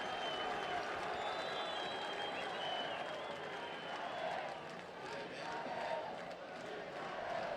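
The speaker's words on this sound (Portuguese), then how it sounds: "O torcedor aplaude o argentino" Football fans in a stadium applaud an Argentine substitute, Miralles, coming on for Grêmio against Flamengo in 2011, a broad, distant wash of clapping and crowd noise under a commentator's voice.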